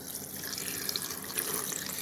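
Water runs steadily into a mixer jar, nearly three cups for a ginger and tulsi herbal tea, a continuous close splashing flow with no talking.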